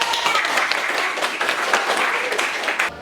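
Classroom applause from high school students, a lively burst of clapping hands filling the room at steady strength before cutting off abruptly near the end.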